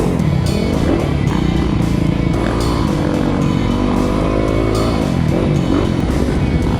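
A sport bike engine revving hard and close up, a loud continuous buzzing roar with rapid rises and falls in pitch throughout.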